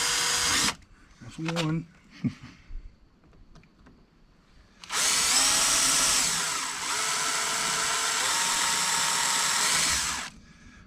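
A power drill bores holes into the rear spoiler of a C8 Corvette during a wicker extension install: a brief first burst, then a long loud steady whine of about five seconds, with short speech before it.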